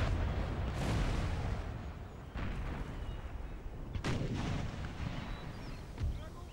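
Artillery cannons fire in the battle game Empire: Total War: several heavy booms land about a second or more apart over a constant low rumble of battle.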